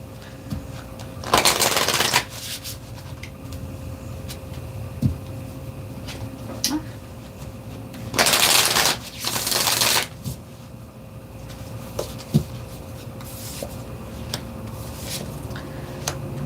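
Oracle cards are shuffled for a reading in two distinct bursts of riffling and flapping, close and crisp, separated by quieter stretches with light taps and handling noises.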